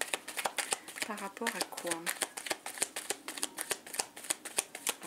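Oracle cards are handled, shuffled and turned over in quick, crisp, close flicks and snaps throughout, while a voice speaks briefly over them.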